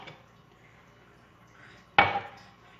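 Dough is stirred with olive oil in a bowl: a low, quiet scraping and shuffling, then one sharp clink of a utensil against the bowl.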